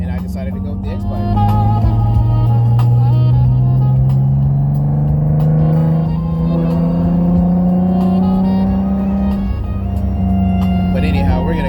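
A car engine fitted with a tangential X-pipe exhaust drones steadily in traffic, its deep tone slowly climbing in pitch as it pulls along, loud and close throughout.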